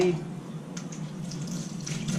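Purified water runs steadily from a tap or pour to rinse hands over a sink, a continuous close splashing hiss with faint uneven spatters, no talking.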